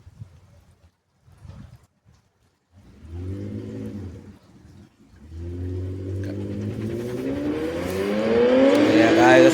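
A supercharged Holden Commodore V6, out in the rain, blips its engine close by a few times, then revs harder and climbs steadily in pitch and volume toward a loud, whining high-rpm roar.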